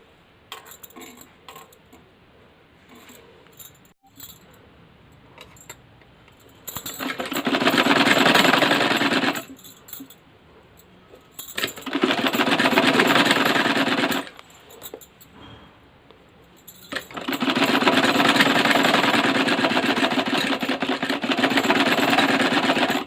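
A sewing machine stitches a folded fabric strip for a designer sleeve, running in three long bursts of steady whirring with quieter pauses between, close and loud with no talk.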